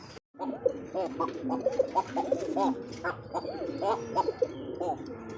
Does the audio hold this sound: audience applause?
no